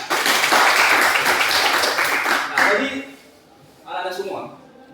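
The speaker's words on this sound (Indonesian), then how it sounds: "Coba kasih dulu tepuk tangan untuk kawannya." Pupils in a classroom applaud a classmate with a dense burst of clapping for about two and a half seconds, which then fades as a teacher's voice takes over.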